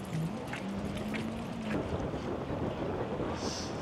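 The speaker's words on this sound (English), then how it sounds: "the wind is blowing towards us" Steady wind buffeting a microphone on the coast at Santa Monica, a loud, continuous rushing roar with a faint tonal whistle early on.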